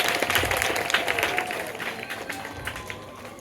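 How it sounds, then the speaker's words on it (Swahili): A church crowd applauds children newly welcomed by a bishop, a burst of many hands clapping that is loud at first and then gradually thins and fades. "Makofi kwao tena."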